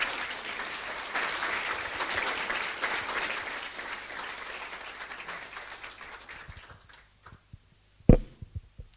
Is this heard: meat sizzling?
no